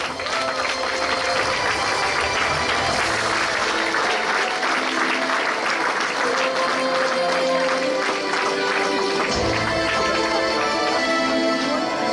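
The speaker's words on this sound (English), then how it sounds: "Big round of applause" Steady, full applause from a conference audience at an international conference panel session, felicitating the organizing secretary, sustained and loud throughout with faint music underneath.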